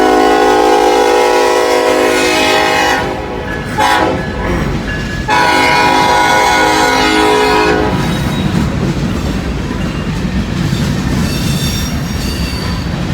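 A passing Norfolk Southern grain train near Butler Street in Hamilton blasts its horn in long and short loud pulses, then the horn drops away leaving rolling wheel noise, clatter and squealing as the cars go by close.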